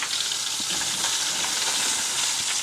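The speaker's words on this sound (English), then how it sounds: "heard the sizzling, so I need to come check" A vacio cut of beef grills over an open fire, giving off a steady, close, continuous sizzle with faint crackles throughout and no talking.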